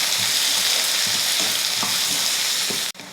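Chopped onions with fennel, curry leaves and garlic sautéing in hot oil in a pan, a loud continuous close sizzle with soft stirring scrapes, no voices, cut off abruptly at the end.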